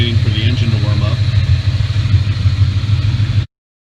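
A car engine idles steadily while warming up during an oil change, with a low, even rumble, cut off abruptly near the end; a faint voice sits underneath.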